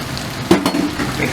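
A spoon stirs bhindi do pyaza, okra cooked with onions and fresh chopped coriander, in a pan, giving a short scrape and clatter over a soft, steady sizzle, close and moderately loud.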